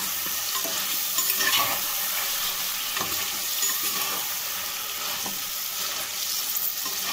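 Vila fish frying in a clay pot is turned over with a ladle: a constant close sizzle, layered with gentle scraping and stirring against the pot.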